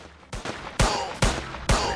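A small gun fires at aliens in an Indian bike video game, four loud, evenly spaced shots, each a sharp burst with a short rumbling tail, close and without talk.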